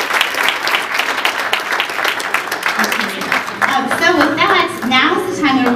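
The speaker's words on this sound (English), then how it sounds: "Give another round of applause, please" Sustained applause from a crowd, steady clapping throughout, with a voice speaking over it toward the end.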